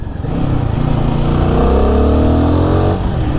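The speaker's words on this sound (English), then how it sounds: "this is a single cylinder motorcycle" A Royal Enfield Guerrilla 450 single-cylinder motorcycle engine revs loudly and steadily, its pitch climbing as it accelerates, with a close, continuous thumping drone.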